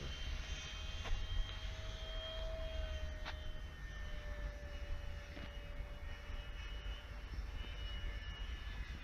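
A model Saab Viggen jet aircraft in flight gives a steady, fairly faint whine with a sustained tone that shifts slightly in pitch over a constant outdoor rumble, with no talking.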